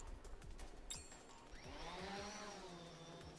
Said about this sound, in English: Oh, it's a drone.